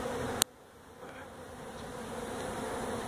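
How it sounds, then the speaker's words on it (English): Steady buzzing of many bees swarming around a hive during a hive removal in Harlingen, Texas, a continuous drone with a sharp click at the start and no voices. "Look at all the bees flying around."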